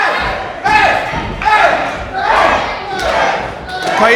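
Wrestling crowd at an indie show in Dagenham cheering and shouting in repeated surges, loud and close, with chants rising and falling over a steady roar of voices.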